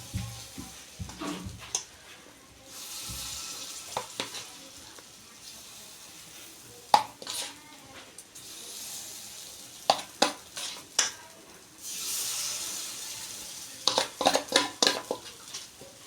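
Rava appe batter sizzles in an oiled appe pan, a soft steady fry punctuated by sharp metallic clinks and taps of a spoon against the pan, with occasional speech nearby.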